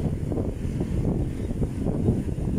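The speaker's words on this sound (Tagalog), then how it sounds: "malakas guys ang hangin at napapansin nyo siguro yung tumatama sa cellphone natin na kaluskos ng hangin" Strong outdoor wind buffeting a cellphone microphone, producing a continuous low, rumbling flutter with irregular gusty pulses at moderate loudness.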